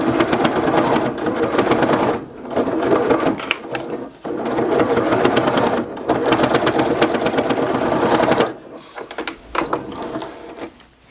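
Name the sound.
sewing machine stitching the corners of a fabric toiletry bag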